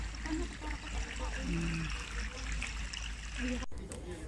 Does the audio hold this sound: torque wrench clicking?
no